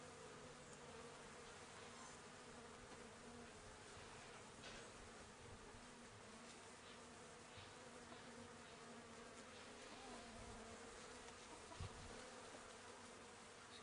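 Honeybees crawl over the combs of an open top bar hive, giving a steady, dense buzzing hum that holds evenly throughout with no voices, close by and moderately quiet.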